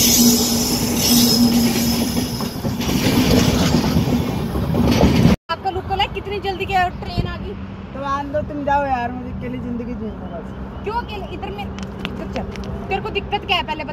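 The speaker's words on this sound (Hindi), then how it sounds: "ट्रेन आ गई जल्दी, ट्रेन जा रही है।" A train passing on railway tracks first rumbles loudly and steadily close by, then rolls on with squealing wheels and clattering cars while people talk over it.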